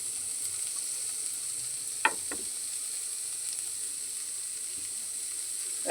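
Green chili and garlic fry in a pan of vegetables with a soft, steady sizzle, broken by a couple of sharp scraping stirs near the middle.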